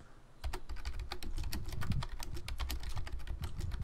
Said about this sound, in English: And I could hear somebody typing.